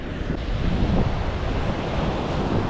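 Sea waves wash steadily onto a Sri Lanka beach in low season, a continuous roar of surf mixed with wind buffeting the microphone, with no voices.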